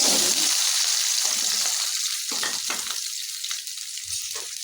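Chopped onions sizzle and fry in a hot pan for an egg masala gravy, a steady bright crackle that dominates throughout and slowly eases in loudness.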